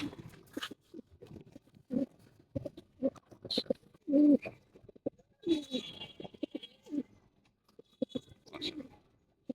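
White military pigeons in a loft, cooing in soft, low, repeated bursts close by, mixed with wing flutters and shuffling and a few faint sounds in the background.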